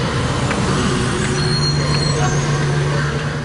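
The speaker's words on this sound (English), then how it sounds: "That screech of the bus is a Metro bus that I recorded in Burbank, actually." A Metro bus in Burbank lets out a thin, high brake screech over a loud, steady engine rumble and the broad roar of surrounding road traffic.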